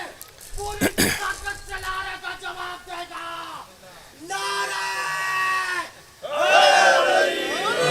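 A crowd roars a religious slogan in unison at a gathering, loud full-throated chanting in several bursts with a sharp shout near the start and a swelling final surge.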